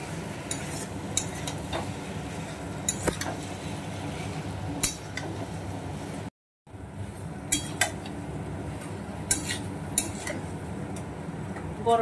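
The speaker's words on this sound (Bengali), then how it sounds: "গরম মশলা দিয়ে নাড়িয়ে চাড়িয়ে নিলাম একটু" A spoon scrapes and clinks against a pan while stirring cauliflower and potato curry with garam masala, with soft intermittent knocks and a faint sizzle underneath and a brief silent gap midway.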